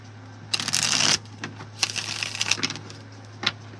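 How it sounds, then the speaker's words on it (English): Tarot card decks being shuffled in quick riffling bursts, a long crisp run followed by shorter scattered flutters and a final snap, close and fairly loud over a steady low electrical hum. "I'm trying to shuffle these decks."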